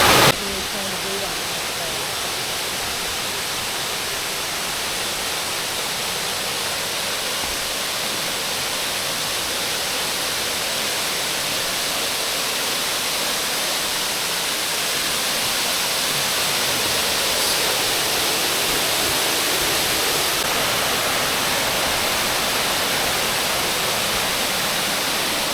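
Waterfall at Ricketts Glen pouring after a night of rain, a steady broadband rushing roar that holds constant and full for the whole stretch, with no voices over it.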